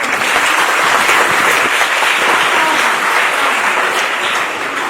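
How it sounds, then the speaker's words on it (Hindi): Sustained, dense applause from a crowd at a self-defense training program for girls, steady and loud throughout before easing slightly at the very end. "तालियां बजा दो यार लड़के"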